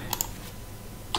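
A few sharp keystrokes click on a computer keyboard while typing under Kali Linux, two quick taps then a pause and another near the end, close and otherwise quiet.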